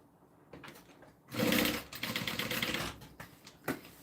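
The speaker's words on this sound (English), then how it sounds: "sewing it like the pattern tells you to" A sewing machine stitching a bag runs in a short, close burst of rapid mechanical clatter, slowing and stopping, with light handling sounds before and after.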